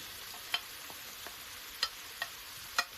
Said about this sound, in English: now I am also going to be adding in the chopped garlic, onions,